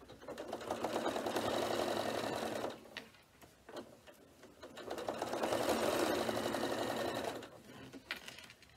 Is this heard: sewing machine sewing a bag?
yes